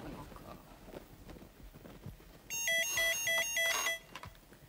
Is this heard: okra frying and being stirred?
no